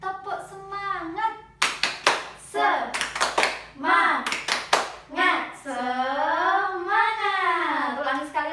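A primary-school class chanting and clapping together in a rhythmic classroom game, sharp group claps in quick patterned bursts between sung or chanted voices, with a sustained sung phrase at the end.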